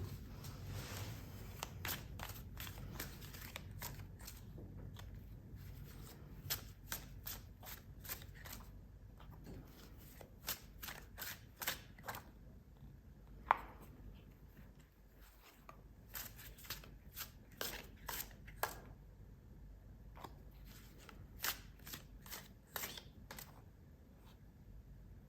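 Tarot cards are shuffled by hand in repeated quick bursts of crisp riffling and slapping, close and fairly quiet, with short pauses between rounds and no speech.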